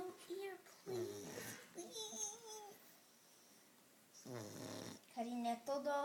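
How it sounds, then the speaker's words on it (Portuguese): A small dog sleeps and snores in low, raspy bursts, while nearby people talk softly over and between the snores. "mas ele ronca"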